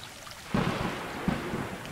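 Rain and rolling thunder from the video game Stray, a steady downpour with low booming rumbles swelling partway through, close and fairly loud with no speech.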